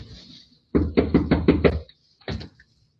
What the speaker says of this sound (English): he's walking up to the home and he's knocking on the door